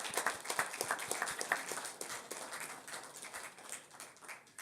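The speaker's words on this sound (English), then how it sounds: "And so we want to applaud you." Applause from a crowd at a City of Inglewood council meeting, a dense, steady patter of many hands clapping at moderate distance that gradually thins out, with no talking over it.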